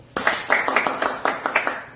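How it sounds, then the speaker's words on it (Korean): A small group clapping on request during a beginner's YouTube recording session, about eight or nine sharp, fairly regular claps spaced a quarter second apart, close and moderately loud with no voices. "박수 한 번 주십시오."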